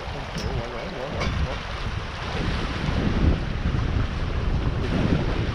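A sailboat reaching at about 90 to 100 degrees to the wind at around 7 knots: steady wind buffeting and water rushing past the hull, growing stronger toward the end, with faint voices in the background.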